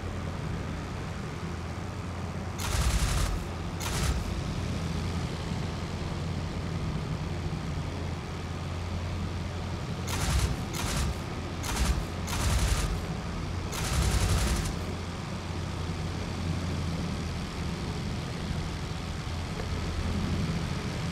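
Machine guns on a WWI aircraft in the IL-2 Flying Circus game fire in several short bursts over a steady engine drone, loud and close, with no talk.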